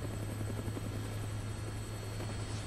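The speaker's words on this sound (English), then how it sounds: "Looks like taking a helicopter was the way to go." A helicopter from the video game Dead Rising flies steadily nearby, its rotor drone loud and continuous with a constant buzzing hum and no talk.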